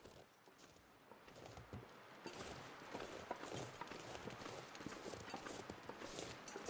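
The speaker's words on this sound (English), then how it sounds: "I think I heard footsteps." Footsteps in the survival video game The Long Dark fall as a steady series of crunching steps, faint at first and then louder and more continuous across the stretch.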